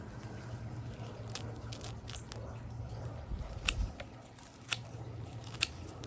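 Garden scissors snip through plant roots in a container pot with a few sharp, close clicks and crisp cuts spaced over several seconds, amid soft handling rustles.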